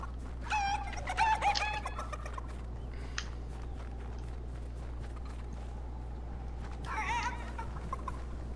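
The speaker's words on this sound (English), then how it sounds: "Put the cuckoo down before it attacks you" Cuckoo bird in a video game: a few short warbling, squawking calls near the start and again later, over a steady low electronic hum.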